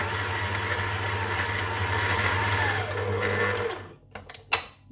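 A food processor mixes shortcrust pastry dough with a steady, close motor whir for about three and a half seconds, then shuts off and leaves a few light knocks and clatters.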